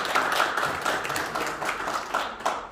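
Steady applause from an audience at an inauguration ceremony for a Korean jokgu association president, a dense wash of clapping sustained throughout.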